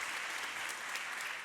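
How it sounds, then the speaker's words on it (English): A conference audience at a biotech and health panel gives a round of applause, a dense, even wash of clapping held at a steady moderate level, somewhat distant, with no talk over it. "Can we just get another round of applause, actually, please?"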